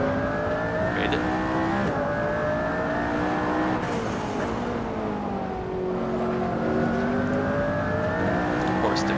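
In the racing game Assetto Corsa, a McLaren P1 engine pulls hard through the gears, its tone climbing and dropping back at each shift in repeated surges, with a faint tire squeal.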